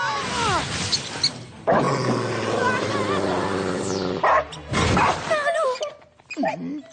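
A dog barks and yips in short, loud bursts, mixed with whimpering, while people shout and talk over it in an animated children's cartoon scene.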